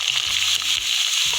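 Garlic dropped into hot oil already crackling with mustard and fenugreek seeds gives a brief close sizzle, with a few light clinks from the pan.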